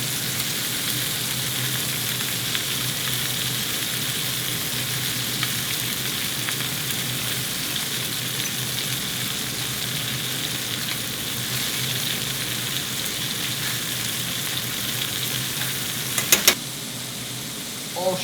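Sugar melting in a pan for caramel gives a steady, even sizzle with faint stirring scrapes. It stays close and continuous, and a few clinks come near the end.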